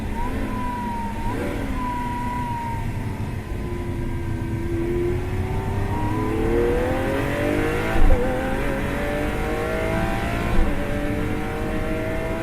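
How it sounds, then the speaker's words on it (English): A Lamborghini Aventador LP700-4 V12 engine revs loudly and steadily, its pitch climbing through the gears with a couple of sharp blips, no talking. "you hear the full song of that V12 and it changes its character entirely"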